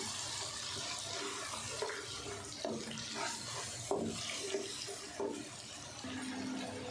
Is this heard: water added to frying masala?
yes